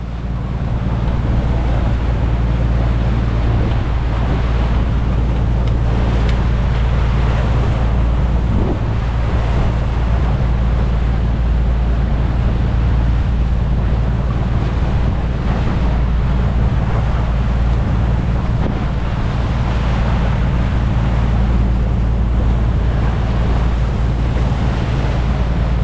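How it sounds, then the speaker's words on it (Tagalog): Large surf waves breaking along the shore at Siargao, a steady loud wash of rushing water mixed with heavy wind buffeting the microphone, continuous for the whole stretch with no voices. "Grabe ang alon, no?"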